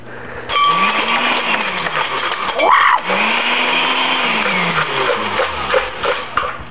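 A kitchen blender whirs loudly and steadily with its lid left off, a dense broadband motor noise running throughout, with a brief voice-like tone breaking in midway.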